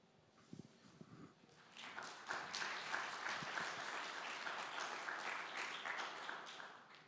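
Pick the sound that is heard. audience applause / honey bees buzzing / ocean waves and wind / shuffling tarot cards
audience applause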